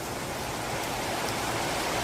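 Steady rain falls outdoors on a wet, humid day during tree planting, a dense continuous hiss close around the microphone with no talking.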